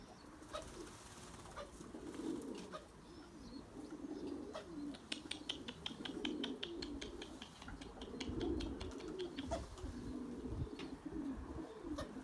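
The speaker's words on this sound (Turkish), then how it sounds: "Şimdi yabancı kuş burada arkadaşlar." Erzurum white pigeons coo repeatedly in a quiet loft, low burbling calls rising and falling with occasional wing flutters and faint clicks, no talking.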